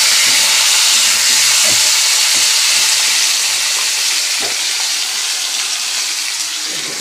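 Large chunks of potato and pointed gourd frying in a pan, a loud, close, continuous sizzle and hiss that fades slightly over time, with faint stirring clinks.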